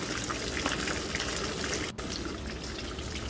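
Pieces of pork in crispy batter deep-fry in hot oil, giving a dense, steady crackling sizzle close up that runs without a break, with one short drop in the noise partway through.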